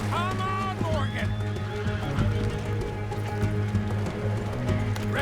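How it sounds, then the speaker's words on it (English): Horses whinny and their hooves clip-clop at a gallop in a Red Dead Redemption 2 game scene, with a loud neigh at the start and steady hoofbeats under a game soundtrack and character voices. "Let's get to those horses, Morgan!"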